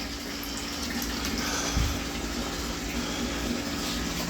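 Water rushes steadily through a steam boiler as it is drained and refilled to clear the sight glass, a constant broadband hiss and gurgle with a low hum and a brief thump partway through, no talk.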